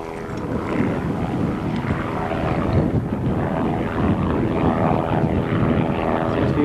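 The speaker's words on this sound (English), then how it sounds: "Seems to be one of the tour helicopters." Tour helicopter flying overhead in Hawaii in 1994, a steady, continuous rotor and engine drone that stays loud and close throughout, with no talking.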